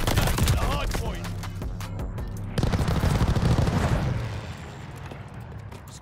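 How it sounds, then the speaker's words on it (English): Hostile strafe run in a Call of Duty: Vanguard Hardpoint match: sustained heavy gunfire and rumbling impacts that swell midway and then ease off, with game voice callouts mixed in. "Hostile strafe inbound."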